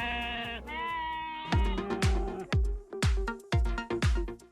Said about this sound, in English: We use a flock of sheep to manage vegetation in a nature preserve.